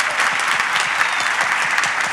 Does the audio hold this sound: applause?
yes